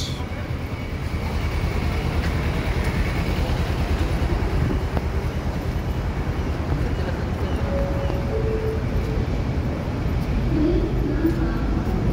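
An elevated LRT train rolls past near Masjid Jamek in Kuala Lumpur, a steady loud rumble and whoosh filling the whole stretch with constant wind-like noise and no voices.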